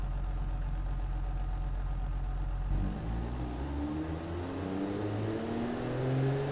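A simulated straight-six car engine in the game Automation idles with a low steady drone, then revs up, its pitch climbing smoothly in a single strong rise, loud and close with no talk.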